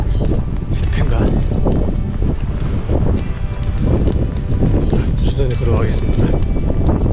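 Strong gale-force wind buffets an island coast on Biyangdo, a loud, constant roar pressing on the microphone while a person talks over it on the walk.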